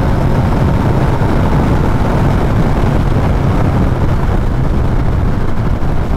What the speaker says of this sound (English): It's very, very noisy. A lot of wind noise.